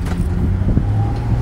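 A 2006 Ford Mustang convertible with about 95,000 miles pulls away, giving a brief loud, rumbling engine drone mixed with some wind buffeting close to the microphone.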